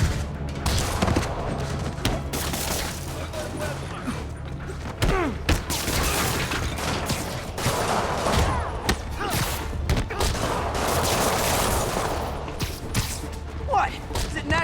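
Rockets launching and blasting apart in a Spider-Man video game, a steady barrage of booming thuds and fusillade-like bursts layered over game music and character voice lines throughout.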